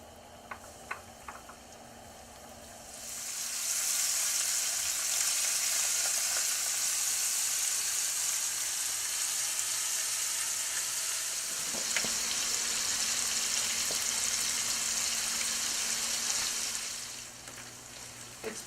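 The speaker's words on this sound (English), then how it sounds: "So all I'm going to do is coat them in this flour. We're going to fry them in this oil." Flour-coated french fries frying in hot oil give a steady, loud sizzling hiss that swells in after a few quiet seconds, continues nearly unchanged for about thirteen seconds, and then drops away at the end.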